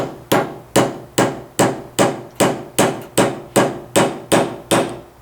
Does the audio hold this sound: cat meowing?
no